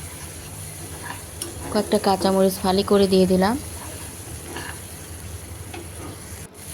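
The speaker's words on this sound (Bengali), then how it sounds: "এখন মশলাটা কষিয়ে নিচ্ছি" A spice paste with fried onion sizzles in a frying pan for fish curry, the stirring scraping steadily under a woman's speech, with a constant frying hiss throughout.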